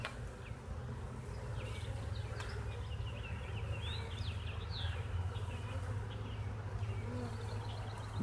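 Honey bees from a virgin swarm hum steadily during a hive inspection, a continuous low drone with scattered higher buzzes of individual bees flying close by, with no talking.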